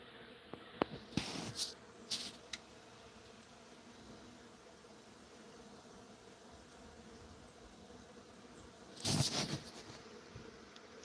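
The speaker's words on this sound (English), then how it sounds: "This is bee mayhem." Honeybees buzzing around a hive while one fans pheromone toward the entrance, a faint steady hum with a few louder bursts as insects pass close by.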